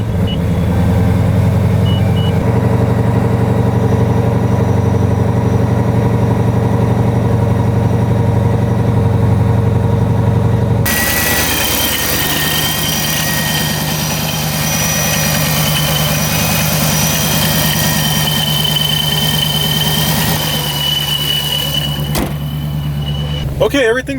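Loud ProCharger-supercharged car engine idling close up with a deep, steady rumble; partway through, the tone shifts to a brighter, whining idle that carries on evenly.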